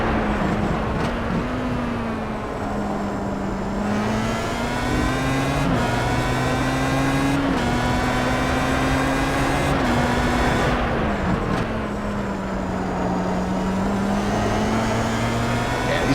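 HPD and Pro Mazda race cars lapping the Daytona road course in a racing video game, their engines whining steadily and shifting pitch with gear changes as several cars run close together, under continuous commentary.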